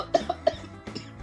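A person eating pani puri coughs three times in quick succession, then gives one more cough, close and fairly loud.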